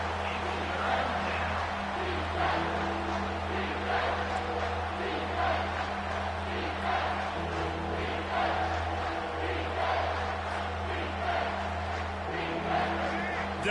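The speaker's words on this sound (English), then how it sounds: "Decibels rising as the crowd gets behind this defense on 3rd down." Stadium crowd at a college football game roars steadily for the defense on third down, a dense continuous wall of cheering with a play-by-play announcer talking over it throughout.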